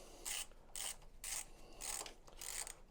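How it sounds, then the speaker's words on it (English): Ratchet working a bolt off the guard of a Kawasaki Vulcan S motorcycle, five or six quick rhythmic clicking sweeps close up with no talking. "we need to take this bolt out so that we can remove the guard"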